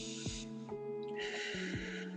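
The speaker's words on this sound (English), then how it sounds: "So you take a nice cleansing deep breath in." A deep cleansing breath drawn in, heard as a fairly quiet airy inhale with brief snort-like nasal bursts and a hissing rush, close to the microphone with no talk.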